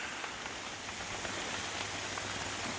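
Heavy rain pours down outdoors in New Zealand, a dense, steady hiss of drops striking surfaces that continues unbroken and close throughout.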